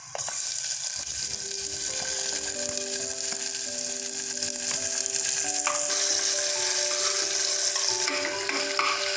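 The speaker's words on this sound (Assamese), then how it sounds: "এতিয়া মই পিঁয়াজখিনি দি দিম ইয়াত।" Onions sizzle and fry in a pan with half a spoon of sugar for a vegetable pulao, a steady close crackling hiss with occasional stirring scrapes and no talk.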